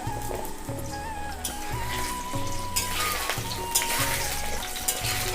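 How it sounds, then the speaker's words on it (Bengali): Potatoes fry in hot refined oil with a soft, steady sizzle and a few faint pops, heard under background music in a home kitchen. "তেল গরম হয়ে গেছে, আমি আলুগুলো ভেজে নেব।"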